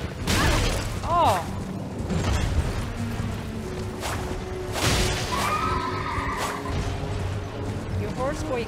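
A horse whinnies and snorts repeatedly in the video game Elden Ring, amid clattering effects and thuds, with a person talking excitedly over it.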